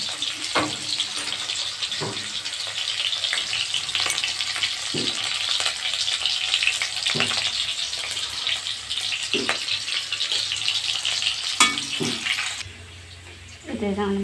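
Chicken with green chili and onion tossed into hot oil in a pan, producing a loud, steady, close sizzle that roars throughout, broken by a few clanks of stirring, then dips briefly near the end.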